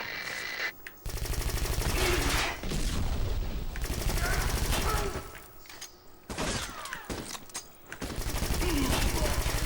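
Suppressed gunfire in the Xbox shooter Black, with rapid muffled shots and mechanical clatter in dense bursts across a noisy battle mix, briefly cutting out twice before resuming.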